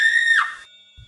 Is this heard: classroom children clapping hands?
no